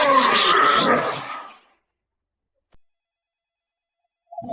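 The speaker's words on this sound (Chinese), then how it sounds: "哪来的陌生电话？" A short burst of telephone ringing sounds at the start, then silence with a faint click, and another brief ring begins at the end.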